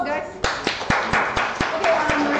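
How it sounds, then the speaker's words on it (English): A small live group at a CSS meetup claps in sparse, separate handclaps, about eight sharp slaps spaced unevenly over a couple of seconds, close and fairly loud. "Okay, applause, guys."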